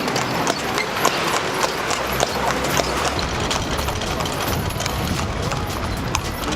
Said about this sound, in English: We're thinking about taking a horse ride in the horse carriage